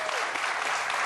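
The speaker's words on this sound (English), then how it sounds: "y'all clapping because it's a great statement" A studio audience on a sports talk show gives a brief, dense burst of applause, loud and continuous with a faint voice underneath.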